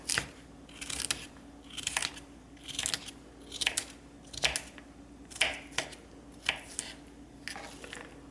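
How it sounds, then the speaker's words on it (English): Cucumbers being cut into cubes on a cutting board for tzatziki, with a regular rhythm of crisp, crunchy knife chops about once per second, close and clear with no talking. "And then you just cut them into cubes."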